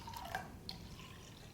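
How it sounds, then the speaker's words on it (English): Warm water poured into lemon juice: small trickles and drips splashing into liquid, quiet and close, with a few bright droplet sounds and no talking. "I'm going to add some warm water to the lemon juice."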